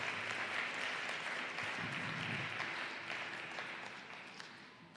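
A church congregation applauds and acclaims in loud, sustained clapping and cheering that fills the hall for the whole stretch, fading slightly toward the end.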